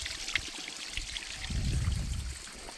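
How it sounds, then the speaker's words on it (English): A small mountain stream with a little waterfall runs steadily close by, a soft continuous trickle and splash that swells slightly midway. "And here you have another stream, some small waterfall."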